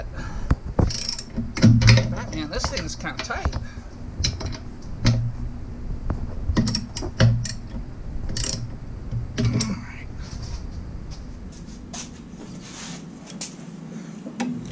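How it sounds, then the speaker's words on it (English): A 1/2 inch ratchet tightening brake line fittings on a Jeep TJ, giving repeated short bursts of clicking at close range, with brief pauses between strokes and quiet workshop background. "Let me switch to a 1/2 inch ratchet."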